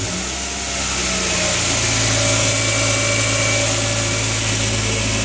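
A freshly rebuilt Honda Prelude engine catches and settles into a steady, loud idle with a constant drone and vibration throughout.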